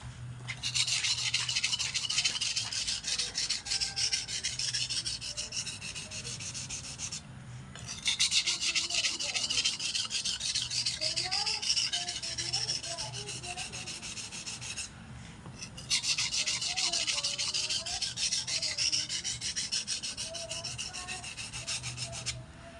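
A knife is sharpened on a whetstone with long, steady abrasive rubbing strokes in close, continuous passes, broken by two short pauses.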